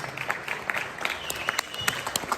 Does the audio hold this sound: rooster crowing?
no